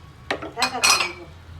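A lid goes onto a cooking pan with three quick metallic clanks and a brief ringing scrape, close and distinct against a quiet kitchen.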